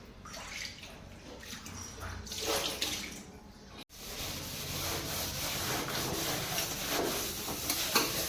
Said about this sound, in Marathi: त्यानंतर स्क्रबनं छान असं घासून घ्यायचं